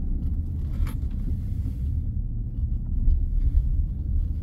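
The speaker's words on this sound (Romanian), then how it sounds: "Tonalitate 3 litri ăsta, cum se aude așa în accelerare și se ridică de bot" Volkswagen Touareg with a 3-litre engine accelerating: a deep, steady low rumble heard from inside the car, swelling slightly partway through, with no talk.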